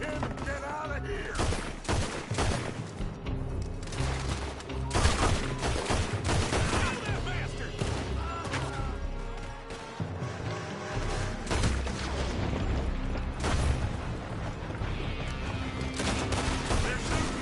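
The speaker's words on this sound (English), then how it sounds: "They're shooting from that building." Gunfire in the video game Red Dead Redemption 2, dense volleys of rifle and pistol shots cracking in irregular bursts and overlapping fusillades throughout, with a busy battle mix behind them.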